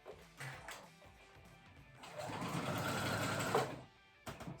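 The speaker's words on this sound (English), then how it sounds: "I do a zigzag stitch on my sewing machine over it to trap it" A sewing machine runs a zigzag stitch over a fabric seam, a steady mechanical whir lasting about two seconds, preceded and followed by quiet handling clicks of the machine.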